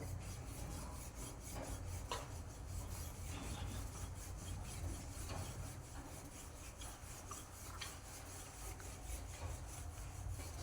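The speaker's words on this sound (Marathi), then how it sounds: "थोडासा मैदा टाकून मी लाटणार आहे" A wooden rolling pin works a flour-dusted puran poli in a home kitchen, making steady, close rubbing and rolling strokes with faint periodic taps, quiet and continuous throughout with no talk.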